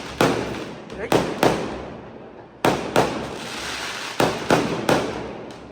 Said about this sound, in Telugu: బాంబులు కాలుస్తారే, ఏమైంది అంటావు?